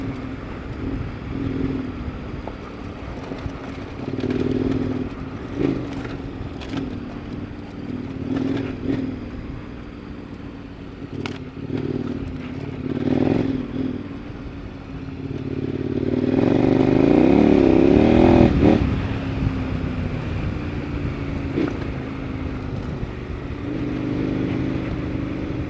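A KTM adventure motorcycle rides through Arizona dual-sport terrain, its engine droning steadily throughout with clattering bumps, then swelling louder as it revs hard for a few seconds before settling back to a steady run.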